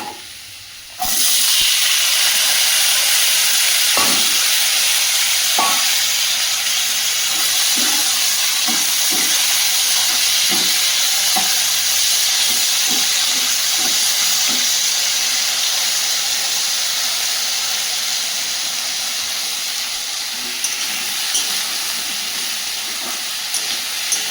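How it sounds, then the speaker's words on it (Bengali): Bitter gourd and potato frying in a pan: a loud, steady sizzling hiss that begins abruptly and continues throughout, with faint scattered clicks of a utensil underneath and no talking. "আর উচ্ছে আর আলুটা ভেজে নেব"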